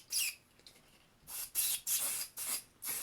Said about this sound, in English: to hit that with some spray adhesive